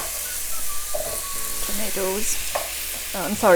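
Carrots stirred into a potato, pea and carrot curry in a pan, a steady sizzle and stirring scrapes close by, with a voice talking over it.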